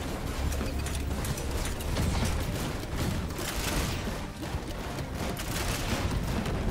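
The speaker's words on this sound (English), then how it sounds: "Let's put these turrets down." Placed turrets in Risk of Rain 2 firing steadily, a dense rapid mechanical rattle of continuous shots that stays loud and even throughout, with no voices.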